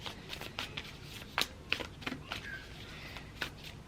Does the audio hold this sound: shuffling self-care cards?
yes